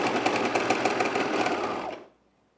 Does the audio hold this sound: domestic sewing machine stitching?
yes